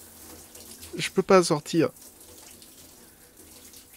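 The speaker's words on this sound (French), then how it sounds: "Ça fait des heures que je suis sous la douche." Shower water runs faintly in the background while a French-speaking voice talks briefly over it, the spray continuing softly afterward.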